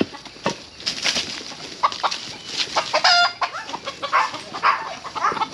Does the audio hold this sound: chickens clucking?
yes